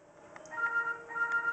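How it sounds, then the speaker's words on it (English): A telephone ringing somewhere in a workshop, heard as a faint, repeated electronic trill in two short bursts, distant and alone. "There's that phone again."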